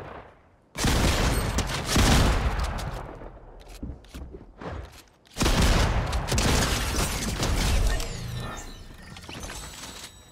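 Loud bursts of rapid gunfire from the video game Fortnite come in two long dense volleys with a short lull between them, fading into scattered mechanical clatter.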